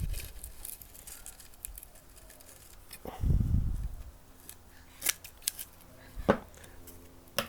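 Scissors snip close by through the wrap on a polystyrene gazing ball, several sharp cuts scattered among soft rustling and handling noise.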